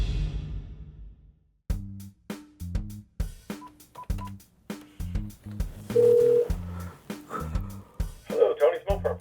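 Telephone being dialed to make a call, a series of short, clear keypad tones in quick rhythmic clusters, close and distinct, with a brief ringback tone near the end.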